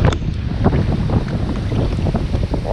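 Strong wind gusting outdoors while fishing, buffeting the microphone with a steady low rumble and roar that fills the whole stretch without a break.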